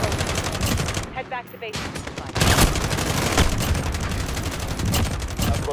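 Dense, continuous gunfire in Call of Duty Modern Warfare co-op, rapid automatic bursts layered with single shots, loud and close, briefly dipping before resuming, with a voice speaking over the shooting.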